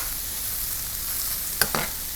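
Chanterelle mushrooms sear in a hot pan with a steady, soft sizzle, broken near the end by two short louder scrapes or stirs.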